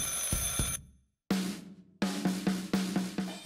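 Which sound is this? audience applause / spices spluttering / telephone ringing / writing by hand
telephone ringing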